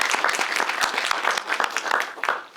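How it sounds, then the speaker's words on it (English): An audience at a teacher recognition event bursts into steady, dense applause, many hands clapping together for a couple of seconds with no talk over it. "So I think we should give yourselves a round of applause."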